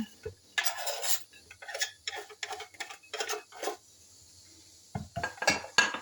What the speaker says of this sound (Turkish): Şöyle kabın içine boşaltıyorum.